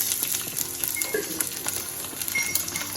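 Chili peppers frying in hot oil, a steady crackling sizzle with small irregular pops, close and moderately loud with no talking.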